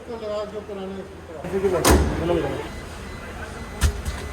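A car door on a Maruti Suzuki bangs shut with a loud thud, then a second, quieter thump follows, while someone talks steadily throughout.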